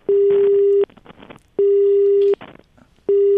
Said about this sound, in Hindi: अरे फोन मिला उसे पंकित